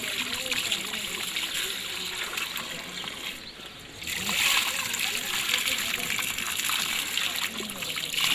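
A full bucket of water poured out in a heavy, continuous splashing gush that stays loud for the whole stretch, dipping briefly before surging again, with people talking over it.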